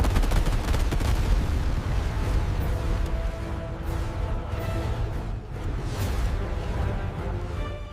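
Dense, rapid gunfire aimed at an alpha T. rex in an animated battle, a loud continuous barrage of overlapping shots and bursts.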